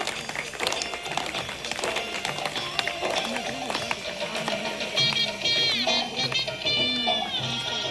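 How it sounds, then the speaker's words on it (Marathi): Guests clap steadily and loudly at a baby shower celebration, a dense rattle of hands under music and voices. "जोरदार टाळ्या होऊन जाऊ द्या."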